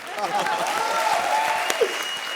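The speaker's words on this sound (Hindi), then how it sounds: "तालियां" A studio audience at a comedy show applauds in a sustained wash of claps, with music tones and stray voices mixed in over it.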